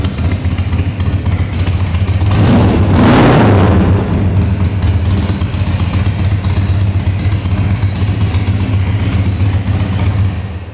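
A 2005 Harley-Davidson Sportster 883 with progressive rear shocks idles with a loud, close rumble, swells in one throttle blip about three seconds in, then settles back to a steady idle.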